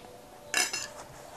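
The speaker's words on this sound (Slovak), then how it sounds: "Janji, prestri mi, som hladný. Janji, príbor" Metal cutlery clinks as a table is set, a short bright rattle of silverware followed by a fainter second clatter, close by and with no talking.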